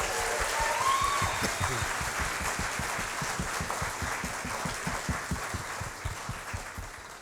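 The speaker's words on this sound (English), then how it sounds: "can we have a round of applause for Hannah?" An audience at an office management awards evening applauds, a steady wash of many hands clapping at moderate distance that gradually thins toward the end.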